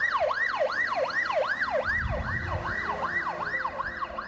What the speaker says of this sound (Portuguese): Quando a sirene é ligada e o código vermelho acionado, o Valmir sabe